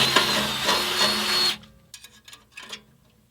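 A power drill with a 5/32 drill bit boring a hole into the exhaust pipe behind a car's catalytic converter, a steady loud whine for about one and a half seconds, then a few short clanks and handling noises.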